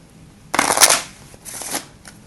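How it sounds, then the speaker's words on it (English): A deck of playing cards is riffle-shuffled for a card trick, giving two close, crisp fluttering bursts, the first louder and longer, then a softer second riffle, with no talking. "So I've shuffled it maybe one more time."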